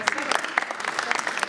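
An audience at a Saint Petersburg film premiere breaks into applause, a dense patter of clapping from a nearby crowd with voices mixed in.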